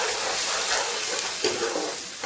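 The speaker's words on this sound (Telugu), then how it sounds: "దీన్ని కొంచెం పచ్చివాసన పోయేదాకా ఫ్రై చేసుకుందాం" Sliced onions sizzle and hiss steadily in a hot pan for a fish curry, a loud broadband frying noise with occasional stirring scrapes and no voices.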